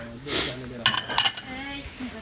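A porcelain plate about 21 cm across is handled, giving several close, bright clinks and knocks of ceramic against other dishes over quiet background.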